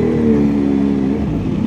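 Loud exhaust of a supercharged Kawasaki ZH2 motorcycle fitted with a red slip-on exhaust, revving steadily up close with a strong, sustained engine roar and no talking.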